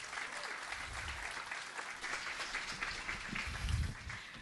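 An audience at a tech festival panel gives a sustained round of applause, steady dense clapping heard at a moderate distance in a large room.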